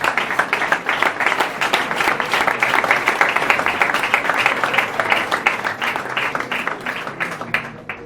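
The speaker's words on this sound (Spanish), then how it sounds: "Da un aplauso al Señor en esta tarde." A church congregation claps together in sustained, dense applause, loud and steady for several seconds before thinning out at the end.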